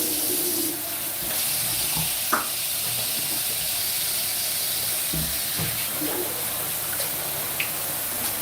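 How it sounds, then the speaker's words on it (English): Water runs steadily from a faucet into a sink while hijabs are washed by hand, a constant hiss and splash with a few brief clinks and knocks, with no talking. "I'm just gonna wash these in the sink"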